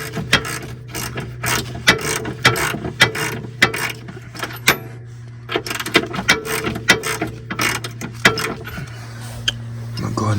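Ratchet clicking in quick bursts while loosening nuts on a Mercedes-Benz, close and fairly loud, with metallic clanks and a steady hum underneath.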